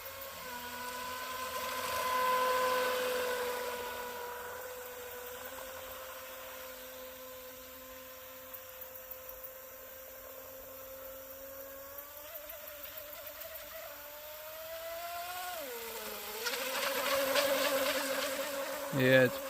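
17-inch mini RC hydroplane motor whining on water, a thin, buzzing electric drone that rises and falls in pitch as the throttle changes, heard from a distance and fairly faint throughout.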